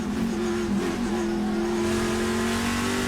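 On-board engine note from a TA2 race car lapping Laguna Seca, a loud, close mid-pitched drone that climbs steadily as it accelerates, with a brief dip near the start.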